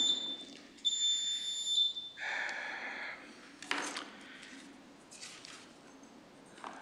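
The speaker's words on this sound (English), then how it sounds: "you'll hear the beeps, and then we're happy to hear from you." Short electronic beeps open public comment at a council meeting, a few bright tones near the start followed by quieter room noise and scattered small clicks, heard fairly close with no talking.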